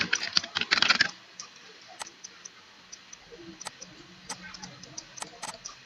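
Typing a date on a computer keyboard: a quick close flurry of key clicks at first, then sparse single taps and clicks spaced out over a quiet background.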